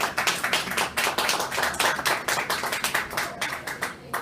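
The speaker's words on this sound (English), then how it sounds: "So a round of applause, please, to David." A round of applause from an audience, steady sharp hand claps over about four seconds, fairly close and lively with no talking.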